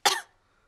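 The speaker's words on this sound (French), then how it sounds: "regardez ce qui se passe quand je tousse." A single short, dry cough from a cartoon child in a French Peppa Pig episode, moderately quiet and over in a fraction of a second, followed by silence.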